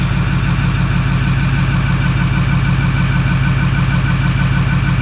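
A warmed-up car engine idles at a raised speed, a loud, close, steady rumble that holds constant without revving and with no talk.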